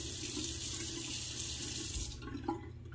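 A tap runs steadily into a sink to wet a shaving brush, a continuous splashing rush that cuts off near the end, leaving a few drips and small clinks.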